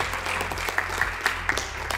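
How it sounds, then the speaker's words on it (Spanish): Audience applause for a TikTok contest winner at a cultural event, brief steady clapping from a group with sharper individual claps popping through. "Un aplauso para él."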